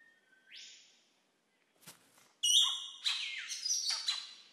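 Several bright, varied bowerbird calls ring out in a quiet Australian forest: a rising whistle, a sharp crack, then a burst of chattering, buzzy notes.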